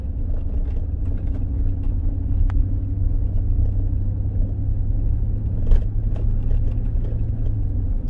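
A 2003 GM truck with a 4L60E automatic transmission runs in second gear during a line-pressure test, giving a steady, close, low engine and drivetrain hum with a constant drone and a few faint clicks.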